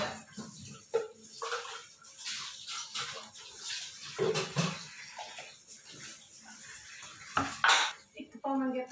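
Dishes, pots and utensils being washed in a home kitchen, with steady clinking and clattering of metal and crockery alongside running water, close and continuous throughout, with some talking mixed in.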